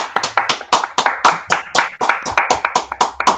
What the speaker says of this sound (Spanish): Merece un aplauso